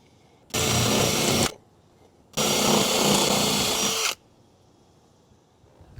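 A step drill bit bores holes through the metal roof of a Ford Transit van for a Maxxair fan, running in two loud, steady bursts, the first about a second long and the second nearly two seconds, with quiet pauses between.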